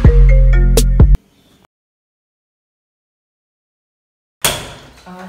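A phone ringtone for an incoming call plays loudly for about a second, a bright repeating tone, then cuts to silence before a brief clatter near the end.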